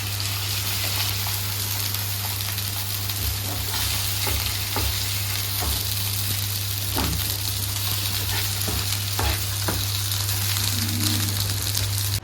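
Fish fry sizzling steadily in hot oil as the pieces are lifted out, a dense continuous crackle with scattered clicks and scrapes from the utensil, close and fairly loud throughout.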